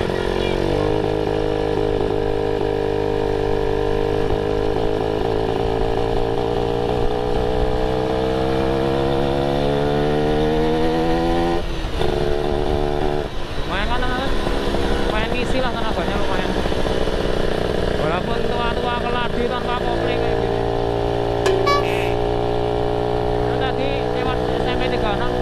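An old Satria two-stroke motorcycle on a test ride buzzes steadily and loudly throughout, its pitch rising and falling through gear changes and throttle shifts, close up with constant wind and road noise.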